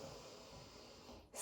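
A single slow, deep inhaled breath through the nose during a vinyasa yoga practice, soft and close, a steady airy rush that ends abruptly.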